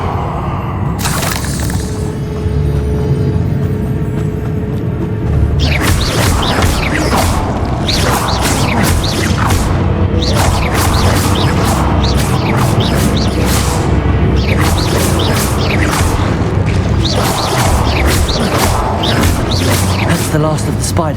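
Bombarda explosion spells and combat clashes from the video game Hogwarts Legacy, a series of loud booming and crashing blasts repeating over a dense, continuous game soundscape.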